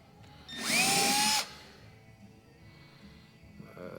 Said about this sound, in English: We got to drill 4 little mini pilot holes.